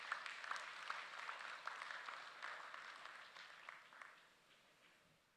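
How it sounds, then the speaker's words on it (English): Applause from the audience at a conference closing session is faint and distant, holding steady before gradually fading away. "please give him a big round of applause"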